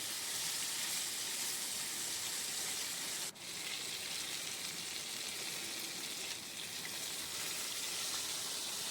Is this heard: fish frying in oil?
yes